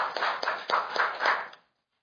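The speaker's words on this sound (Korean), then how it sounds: "많은 박수로 환영해 주시기 바랍니다." A conference audience claps to welcome a National Assembly member at a policy forum, steady rhythmic applause lasting about a second and a half before cutting off cleanly.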